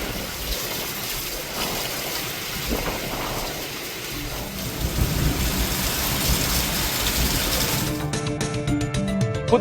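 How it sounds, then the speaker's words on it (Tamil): Heavy rain pours in a thunderstorm with lightning and strong wind, a steady loud roar of rainfall with deep rumbles of thunder rolling through it and no voices. "இடி மின்னல் மற்றும் பலத்த காற்றோடு கனமழை பெய்தது"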